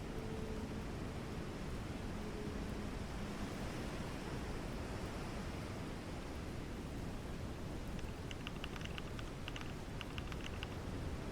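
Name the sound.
ocean ambience track with waves and rain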